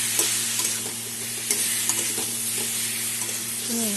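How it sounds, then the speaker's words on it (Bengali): Green mango pieces fry in a pan with jaggery for a sweet chutney, a loud steady sizzle broken by regular scraping and clacking of a spatula stirring; no voices. "এখন আমি গুড়টা দিয়ে একসাথে কষাবো, চিনিটা পরে দেবো"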